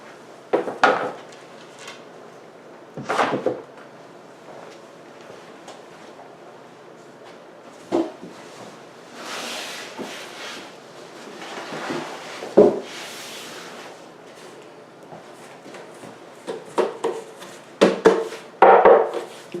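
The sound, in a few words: handling wooden desk drawer and cabinet parts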